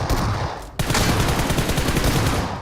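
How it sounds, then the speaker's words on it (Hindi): Rapid gunfire bursts from the mobile shooter game BGMI, loud continuous automatic shots with a brief pause before a second dense volley. "short gunning"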